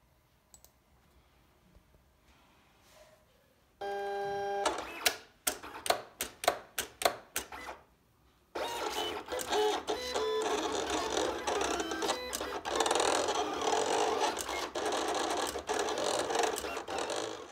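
A vinyl cutting machine slices a decal design into vinyl on a cutting mat, giving a short burst of rhythmic clicks and whirring before a longer, steady mechanical buzz of the blade carriage moving back and forth, close and fairly loud.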